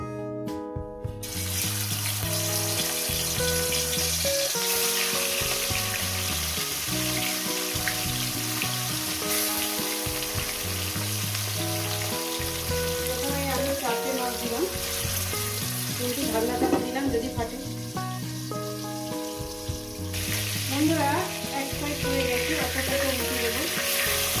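Sole fish fries in hot oil with a steady, close sizzle that lasts the whole stretch, partly blended with tonal background music.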